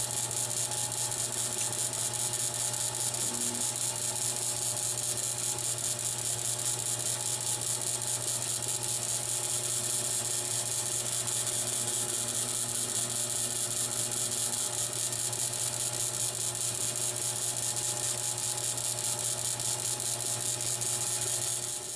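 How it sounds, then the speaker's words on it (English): A wood bottle stopper spins on a lathe while being polished with CA polish, giving a steady, even motor hum and faint rubbing whir that runs unbroken throughout with no voices. "Next, I polish the finished wood with a CA polish."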